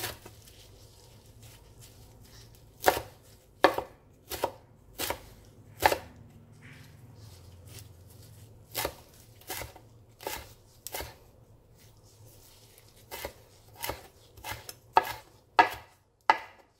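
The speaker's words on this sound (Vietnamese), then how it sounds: "Các bạn có thể băm hoặc là thái" Knife chopping Vietnamese mint herbs on a board while preparing Vietnamese pork blood sausage, sharp crisp taps in irregular bursts, several quick runs close and clear over a quiet room.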